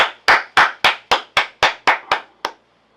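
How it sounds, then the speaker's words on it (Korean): Nine sharp hand claps in an even, steady rhythm, close and distinct with brief pauses between, the last one softer and slightly delayed, then silence. "박수!"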